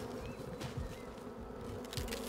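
Honeybees drone steadily around a hive in the video game Holomento, a low continuous buzz at moderate distance with a few brief louder swells as insects pass.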